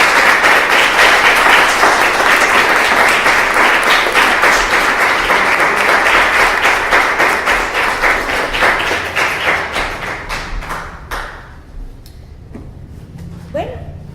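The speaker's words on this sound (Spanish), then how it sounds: "nos merecemos un gran aplauso" Applause from the audience at a poetry café evening in a cultural centre, loud and sustained with many hands, thinning to scattered claps and fading near the end amid some faint voices.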